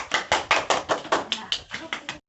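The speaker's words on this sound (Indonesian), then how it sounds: "Itu beri tepuk tangan dulu toh." Schoolchildren clapping together in a classroom, about a dozen brisk, evenly spaced claps close and loud, stopping abruptly after two seconds.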